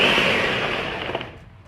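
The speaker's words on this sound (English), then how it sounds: "You can see it's a smooth blender, the blender is chopping it." A kitchen blender pulses and chops ingredients for Ayamase (Ofada stew) to a rough texture, a loud whirring burst that winds down and fades toward the end.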